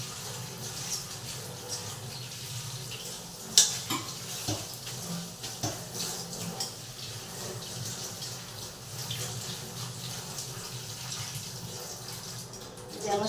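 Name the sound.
water running while washing leafy greens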